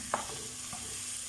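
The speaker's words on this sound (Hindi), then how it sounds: "अब मैं ऊपर नीचे इसको थोड़ा सा मिक्स करती हूँ" Frozen seekh kababs sizzle steadily in a pan. A utensil scrapes once sharply and then lightly again as they are stirred, close and clear above the constant hiss, with no voices.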